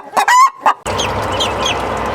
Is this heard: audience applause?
no